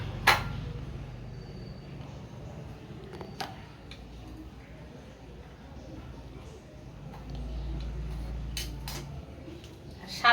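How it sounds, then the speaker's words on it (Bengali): A knife cuts cholar dal dhoka, a lentil cake, into pieces, giving a few sparse, sharp taps against the board amid a quiet kitchen background. "এটা আমি এবার পিস পিস করে কেটে নেব"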